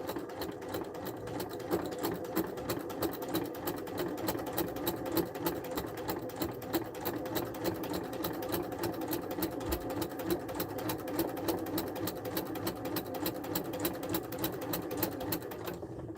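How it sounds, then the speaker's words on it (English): A sewing machine quilts a stitch-in-the-ditch line along patchwork seams, running in a fast, even mechanical chatter of rapid needle strokes for the whole stretch, fairly quiet and close, with no talking. "Then you line it up with this line, the first line you quilted. And that's giving me, on this piece, a stitch in the ditch."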